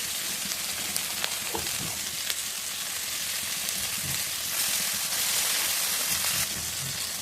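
Chopped tomatoes and cumin sizzle steadily in a hot pan for vegetarian mung dal, a constant close crackle with a few faint stirring knocks.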